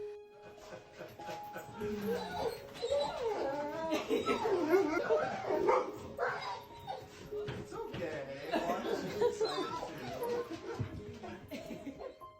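An excited dog greets its owner returning from Air Force deployment, whimpering and yipping in high, wavering cries close by, mixed with laughter and happy voices throughout.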